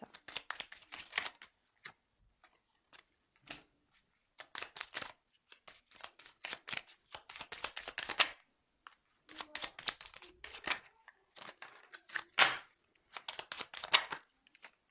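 A deck of playing cards shuffled repeatedly at close range, giving crisp riffling bursts of flicking paper in an uneven rhythm, separated by short quiet gaps.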